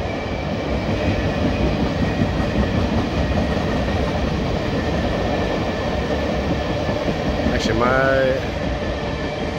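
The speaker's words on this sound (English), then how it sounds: "This is the ethanol train." An ethanol freight train on CSX rolls past with a continuous heavy rumble and clatter of wagons, close and loud, with a short tonal squeal near the end and brief talk over it.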